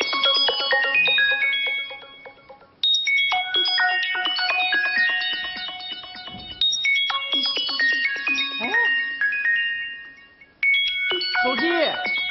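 A mobile phone left on a bench at a shopping mall entrance plays a loud, close melodic ringtone, repeating its tune in several phrases separated by brief gaps.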